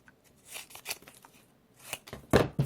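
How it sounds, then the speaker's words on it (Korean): Scissors make a diagonal cut through folded black paper for a papercraft model, heard as a few separate crisp snips, the loudest and longest near the end, with quiet rustling of paper between them and no talking. "대각선 가위질."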